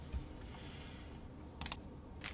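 A pet walks across a computer keyboard, producing a few quick clustered key clicks and taps near the end, faint over a low room hum.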